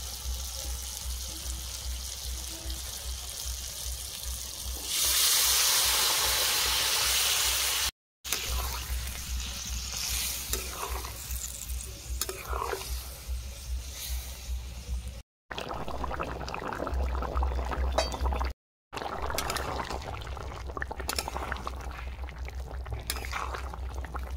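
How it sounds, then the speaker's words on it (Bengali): Gourd and potato curry is poured into a pan of frying prawns and spices, giving a loud sizzling rush followed by steady bubbling and simmering close by, broken by a few abrupt cuts. "এবার এখানে যে লাউ আর আলু ঝোল করে রেখেছিলাম সেটা আমি ঢেলে দেবো।"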